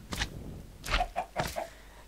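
Chickens from the Minecraft video game cluck in a quick run of short, clipped calls, loud and close, with no talking.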